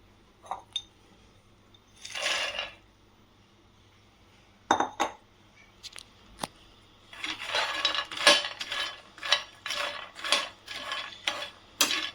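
Fox nuts (makhana) dry-roast in a pan on a low flame. Light, clattering rattles come in separate bursts as the puffed seeds are stirred and tossed, with quiet gaps between them and a denser run of rattling toward the end.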